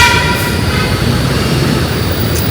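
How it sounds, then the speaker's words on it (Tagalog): A passing train rumbles loudly and close by, its steady rolling roar filling the moment while a sustained horn tone sounds over it. "Saan? Busina."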